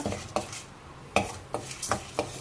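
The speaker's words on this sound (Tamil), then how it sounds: "அதோட உளுத்தம்பருப்பும் போட்டு கொஞ்சம் வறுத்துக்கங்க." Urad dal and chana dal roasting in a pan for curry leaves chutney, heard as a few distinct metallic scrapes and taps of a spoon against the pan at irregular intervals, close and fairly quiet.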